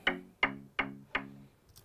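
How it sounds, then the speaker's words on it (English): A plucky synth layer made in Spire for a pop dance track plays five short, bright, evenly spaced notes that each strike sharply and decay quickly, sounding alone and fairly quiet. "just kind of a plucky sound"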